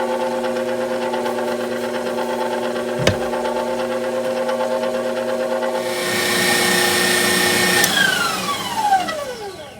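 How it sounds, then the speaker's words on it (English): An electric mixer whips egg whites with sugar, a loud, steady motor whine nearby that rises in pitch and intensity partway through before tapering as the speed drops. "Once we have whipped our egg whites to stiff peaks, we want to go ahead and lower the mixer"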